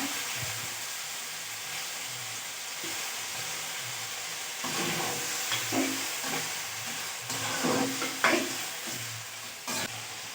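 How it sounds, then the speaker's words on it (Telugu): Chicken liver fry stirred in a hot pan gives a soft, continuous sizzle with intermittent scraping stir strokes growing a little louder toward the end; no voices. "ఇలా బాగా కలుపుకుంటూ ఉండాలి ఎందుకంటే కొద్దిసేపు అది బాగా ఉడకాలి కాబట్టి కలుపుతూ బాగా పెట్టుకోవాలి"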